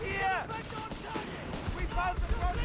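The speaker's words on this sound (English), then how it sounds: "Sten guns versus flamethrowers in action, or bolt action rifles" Company of Heroes 3 battle gunfire with Sten submachine guns and bolt-action rifles crackles in rapid, scattered bursts, fairly faint beneath ongoing speech.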